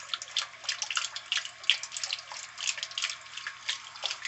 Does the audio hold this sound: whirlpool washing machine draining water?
yes